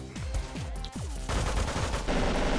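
Rapid gunfire from a gun in the video game Megabyte Punch, a fast rhythmic string of synthetic shots with descending zapping tails, loud and steady, shifting into denser bursts partway through.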